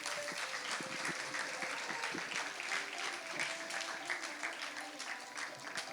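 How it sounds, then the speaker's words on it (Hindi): A crowd claps for the cast of the stage play 180 Degree, the applause dense and continuous but fairly faint, with voices mixed in underneath. "तो एक बार जोरदार तालियां बजाओ 180 डिग्री कास्ट के लिए।"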